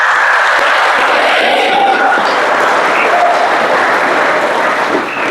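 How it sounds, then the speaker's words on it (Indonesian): Applause from a church congregation for newly installed altar servers, a dense, loud and steady clapping that fills the space and then tapers off slightly near the end. "Kita beri aplaus untuk mereka semua."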